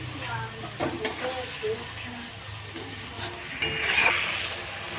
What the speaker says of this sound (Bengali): একটু কষিয়ে নেবো মশলাটা ভালো করে।